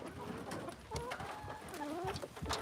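A chicken clucks and warbles softly in a few short calls under a noisy background with scattered knocks.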